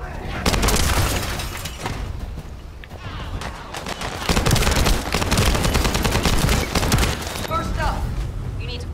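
Rapid bursts of assault rifle gunfire from The First Descendant, a sci-fi shooter, crackle steadily for several seconds, loud and close, with a louder stretch midway and other game sounds layered over it.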